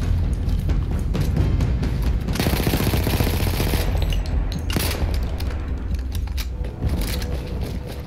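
Dense gunfire and explosions from the Battlefield 1 campaign, a loud, continuous barrage of rapid shots and booms with bursts that swell and fade, no voices heard.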